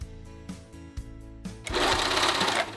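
A domestic sewing machine stitches a split hem on a fabric top: short start-stop whirring bursts, then a sustained, louder run of rapid mechanical stitching, close-up with no talk.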